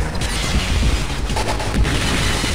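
A special cannon-shot attack in a Game Boy Advance anime fighting game lands as a loud, dense booming blast, with heavy rumbling impacts filling the moment alongside game sounds.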